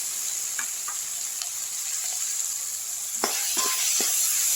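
Onions and other vegetables sautéing in a pan with salt for a Tamil beans and drumstick stir-fry, a steady close hiss of frying with a few scattered clinks and ticks of a stirring spoon.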